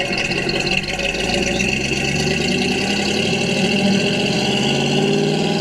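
A steady, throaty engine note from a 1968 Chevrolet Camaro RS's dual exhaust drones continuously while driving, loud and close with no talking.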